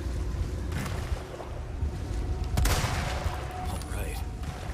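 Rifle fire in the game Resident Evil 4 Remake: a loud, sharp shot cracks out midway through a dense, continuous bed of game noise and rumble, with a few fainter reports around it.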